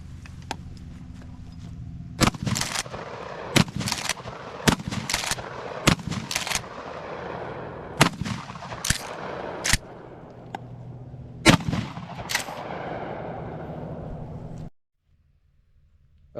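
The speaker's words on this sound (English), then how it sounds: "First up is our Norinco shotgun." Norinco 1897 pump shotgun fired in rapid slamfire, about a dozen loud, sharp blasts in quick irregular bursts with pump-action clacks between them, outdoors, ending abruptly in near silence.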